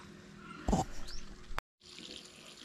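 Water flows faintly into a small homemade fishpond, a soft steady trickle broken by one brief splashy surge and a short moment of silence.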